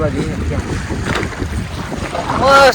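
Steady sea wind rushing over open water off Kutch near Dholavira, with a boat's hum and splashing beneath, swelling louder toward the end.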